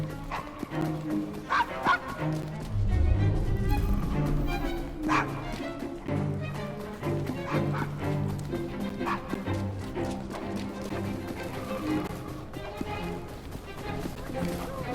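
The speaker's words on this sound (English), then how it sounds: "Nice doggy." A dog in the game Assassin's Creed Syndicate barks repeatedly in short yips and bow-wows, close and lively, mixed with whimpers over background game sounds.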